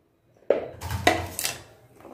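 Ivy gourd being sliced with a knife for vathal, a few distinct close cutting clicks and knocks on a board, with faint utensil clatter between them.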